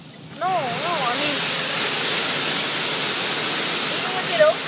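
Heavy hail and rain pound a car during an intense hailstorm, a sudden loud, dense roar starting abruptly and continuing steadily, with a voice speaking briefly underneath.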